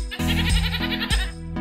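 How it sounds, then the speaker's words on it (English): Goat bleating loud and close, two drawn-out wavering bleats in quick succession, with no talk. "Where's the goat?"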